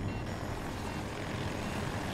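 A transport helicopter in a combat video game roars as a continuous, dense rotor and engine drone, loud and close, filling the whole moment without any talk over it.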